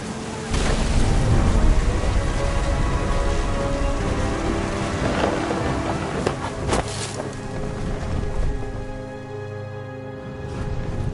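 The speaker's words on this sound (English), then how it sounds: "Thunder sounded much too close and full of angry power." A heavy thunderstorm in the video game What Remains of Edith Finch: steady, loud rain pours throughout, with a few deeper rumbling swells of thunder rising over it and no talking.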